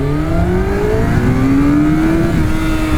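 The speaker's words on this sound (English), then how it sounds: "once this bike gets into those higher RPMs, she's quick" A 2002 Honda CBR1100XX Super Blackbird motorcycle accelerates hard, its engine note climbing steadily through the revs in one continuous, loud, close rising howl with wind rush underneath.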